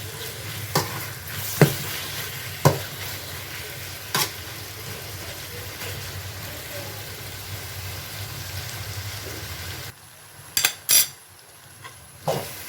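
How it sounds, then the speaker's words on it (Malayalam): Onions, tomatoes and curry leaves sautéing for mixed chicken biryani make a steady frying sizzle, broken by a few sharp metallic clinks of a spoon against the pan and a louder cluster of clatters near the end. "ഇതെല്ലാം കൂടി നമുക്ക് ഒന്ന് വഴറ്റിയെടുക്കാം."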